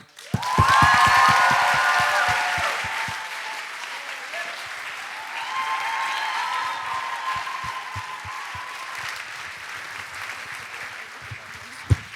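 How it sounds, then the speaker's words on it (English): Audience applause at a school closing ceremony of UWC Adriatic greets the head of school, bursting loudly at first, then thinning and swelling again, with scattered cheers and individual claps near the end. "Please give your warmest applause and maybe a few chants to the Rettore of UWC Adriatic, Dr. Khalid El-Metal."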